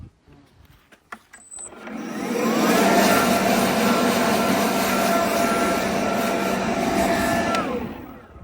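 A leaf blower switches on after a few clicks and roars steadily for several seconds, close by and loud, blasting bees off the surface of a hive before cutting out.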